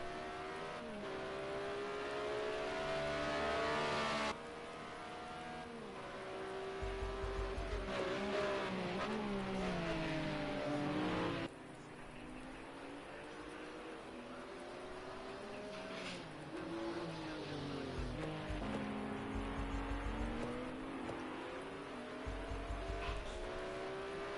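Race cars in Project Cars 2 during an endurance race at Brno, with engines roaring and revving through gear changes, tires squealing, and cars passing close by at a steady loud level.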